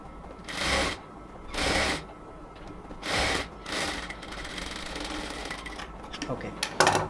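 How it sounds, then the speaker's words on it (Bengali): A sewing machine stitches a luxury cotton dress in several separate bursts of fast whirring, each lasting about half a second. Quieter rustling of handled fabric and soft voices fill the gaps between bursts. "এবার ফাইনাল আরেকটা স্টিচ দিয়ে দিব পুরোটাতে"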